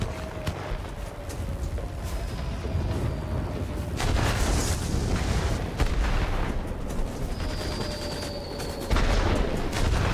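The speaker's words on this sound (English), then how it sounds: "I dropped bombs on it." Bombs dropped from an aircraft explode below in World of Warplanes, deep booms rolling over a steady engine drone and crackling anti-aircraft fire, the blasts muffled and sustained rather than sharp.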